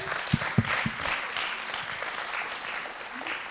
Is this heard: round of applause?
yes